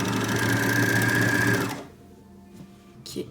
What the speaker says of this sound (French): On peut aussi faire à la machine à coudre.